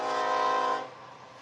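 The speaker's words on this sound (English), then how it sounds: "a large, loud train is on the horizon" A large, loud train horn sounds in the distance near a baseball field in Marshalltown, Iowa, a steady harmonic blast that holds then cuts off, leaving a quieter rumble.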